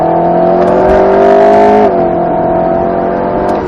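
An Alpine A110 S sports car accelerates on the Grand Sambuc circuit, its engine note a loud, steady drone that holds and climbs slightly, dips briefly near the middle, then carries on strongly.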